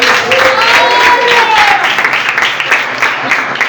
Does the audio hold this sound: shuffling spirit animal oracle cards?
no